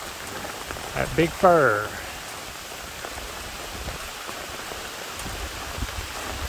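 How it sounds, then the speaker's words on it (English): Summer rain falls steadily on a dispersed lakeside campsite at Lake Ouachita, a soft, even wash of drops that runs through the whole stretch, with someone speaking briefly near the start. "Summer rain coming down on Lake Ouachita"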